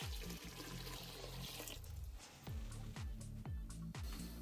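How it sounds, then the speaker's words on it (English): Cold water poured straight into a pot of peas for Jamaican stew peas, a soft, close splashing and gurgling pour with irregular bubbly pulses, heard alone and at low level. "I have 3 cups of cold water. I'm just gonna add it straight into the peas."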